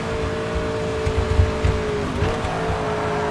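A race car in TOCA Race Driver 3 holds a steady, droning engine note at full throttle through a right-hand corner, with a brief pitch dip and faint tire noise, loud and continuous.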